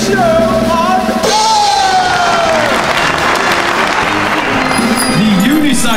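Audience at a circus-style show applauds and cheers loudly and continuously, with whoops and yells rising over dense clapping and music.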